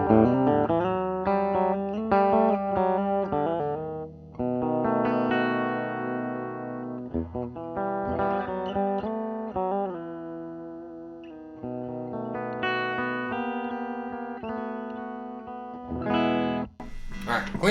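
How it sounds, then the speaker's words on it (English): Electric guitar plays melodic licks and chords through a Fender Pro Jr IV Limited Red tube amp on its clean tone, sustained and ringing steadily with no gaps. "this is our clean tone of our Fender Pro Jr IV Limited Red"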